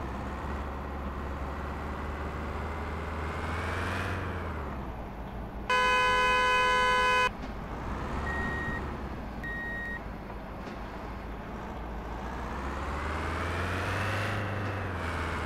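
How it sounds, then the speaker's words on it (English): Small Citroen van engine in Truck and Logistics Simulator, a steady low drone with revving swells near the start and end, broken midway by a loud burst of stacked electronic beeps and two faint short tones. "Even sounds like a little Citroen van."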